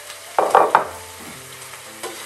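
Beans and capsicum hitting a hot wok in a fish stir fry, giving a few sharp sizzling bursts in quick succession and then a quieter, steady frying hiss with light stirring.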